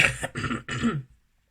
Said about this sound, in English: I'm going to cough a lot. I have the worst cold.